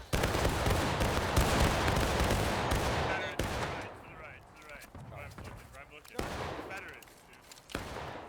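Musket volley fire from a line formation in the Civil War game War of Rights: a dense, sustained crackle of many shots, then scattered single reports trailing off, with voices talking over the fire.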